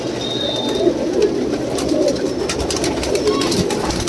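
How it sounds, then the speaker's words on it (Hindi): Pigeons for sale at a market stall coo steadily and close together in a continuous soft chorus, with faint crowd noise behind and no clear talk. "बहुत ही प्यारा कबूतर है"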